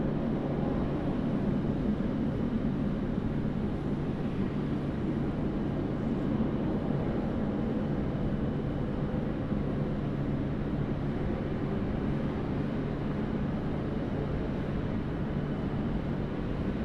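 A Qantas airliner takes off from runway 16 right at Sydney Airport, a steady, broad jet roar filling the scene continuously at a distance without fading.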